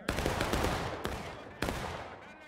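A reenactor company fires a musket volley at a Gettysburg reenactment: a loud ragged crack of massed shots with a rolling echo, and two further sharp reports follow close by.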